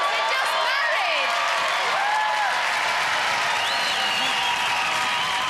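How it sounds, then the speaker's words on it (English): A television studio audience at a 1992 Gladiators UK taping applauds and cheers newlyweds, a dense wash of clapping with whoops and overlapping voices rising through it. "round of applause, they're just married!"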